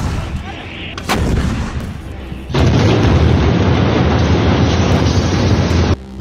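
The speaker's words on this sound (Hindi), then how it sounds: "तोप के गोले बरस रहे हैं।" Artillery shells firing in war footage, a sustained roar of heavy gunfire and booms, with a sharp blast early on and then a loud, dense rumbling barrage that holds steady for several seconds before cutting off.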